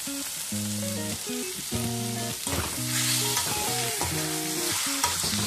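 Pork fries in a pan with constant sizzling and occasional stirring, while music plays loudly over it.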